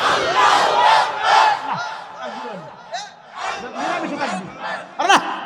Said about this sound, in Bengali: একটা তাকবীর লাগাও।